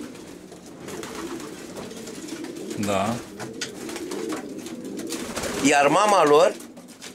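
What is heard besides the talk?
racing pigeons cooing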